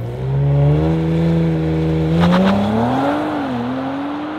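A BMW M3 xDrive or Audi RS 4 Avant launches hard from a standstill with the brake held. The engine roars loud and close, its note climbing steeply, dipping at a gear change and then rising again.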